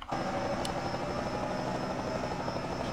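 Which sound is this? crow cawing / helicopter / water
helicopter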